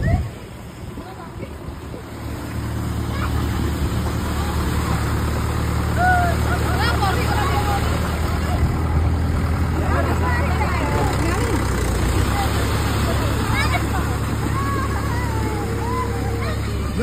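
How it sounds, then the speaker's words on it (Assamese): Tractor engine approaching and then idling nearby in a rural fishing spot, a steady low rumble that builds over the first few seconds and holds throughout, with voices talking over it. "ট্ৰেক্টৰ আহিছে"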